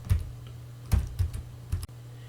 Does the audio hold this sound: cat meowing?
no